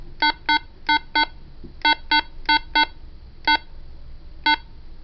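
A Motorola CP200 two-way radio chirps as its push-to-talk button is pressed and released, giving a series of short, crisp, identical beeps, mostly in pairs with a few single ones, over a quiet room.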